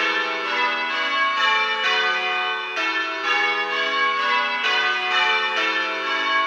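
Church bells ring Plain Hunt in the Little Bob minor method, a steady, continuous cascade of overlapping bell strikes with a bright, ringing tone, loud and sustained with no voices.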